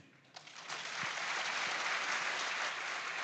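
Audience applause at a school farm awards grand final swells quickly into dense, steady clapping from a crowd that holds to the end.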